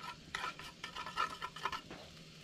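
A coconut shell spoon stirs oil in a cooking pot, giving soft, faint scraping and clinking strokes in an irregular rhythm with a light sizzle underneath.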